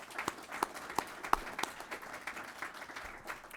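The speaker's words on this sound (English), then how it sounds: "I would like us to give Anita a quick round of applause for all her years of leadership" An audience at a 2019 budget hearing at the Doolin Center gives a quick round of applause, with a steady patter of clapping from a moderately distant crowd, fairly faint overall.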